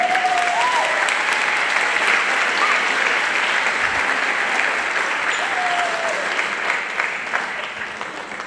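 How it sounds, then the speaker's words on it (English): An audience at a school band concert claps in a sustained, even wash of applause that begins to thin out toward the end, with a few faint voices underneath. "please give those people a round of applause"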